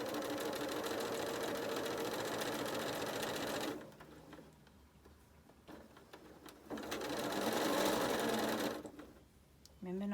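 A sewing machine stitches a quilt block in two bursts of rapid, steady mechanical chatter, pausing in between as the needle stops and pins come out, with a voice talking during the pause.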